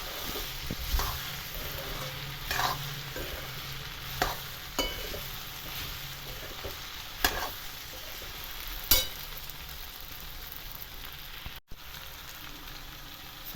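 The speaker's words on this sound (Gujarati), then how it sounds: "ચણાનો લોટ 1 ચમચી એડ કરીશું। મિક્સ કરી દઈશું।" Gram flour and chilli are stirred into okra thecha in a pan, with a soft background sizzle and repeated scraping and tapping stirs at irregular intervals, close and without voices.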